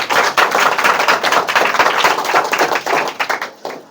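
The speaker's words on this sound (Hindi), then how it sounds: "इसके लिए ताली बजाइए जोरदार" Loud, dense clapping from a classroom group applauding a student's 92% test score, a continuous burst of hand claps lasting several seconds before thinning out at the end.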